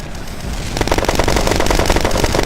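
Rapid automatic gunfire in the online shooter game Red Crucible Firestorm, a loud continuous rattle of close shots following a brief rumbling lead-in.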